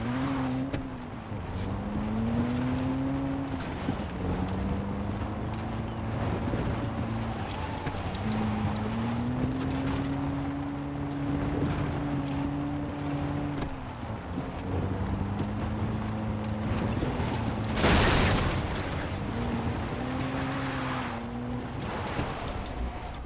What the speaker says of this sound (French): Ouais, on va prendre cette voiture là.